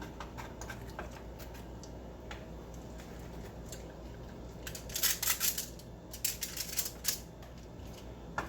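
Baked, oily fish is cut into pieces, giving soft squishy cuts and sharp clicking taps that come in quick bursts toward the end over a quiet kitchen background.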